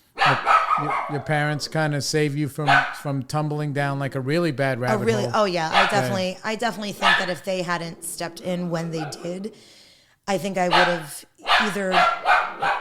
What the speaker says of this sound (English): Sorry about the dogs, everybody. What are they doing?